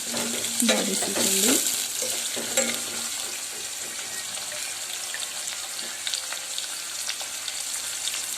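Onions frying in oil in a pan for ridge gourd and toor dal sambar, a steady sizzle with a few stirring scrapes early on, close and moderately loud, no talking.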